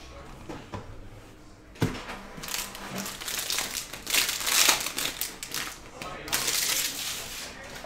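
A Panini Prizm hobby card pack is ripped open up close, with crinkling and tearing foil wrapper bursts that grow louder midway, while a voice speaks faintly underneath.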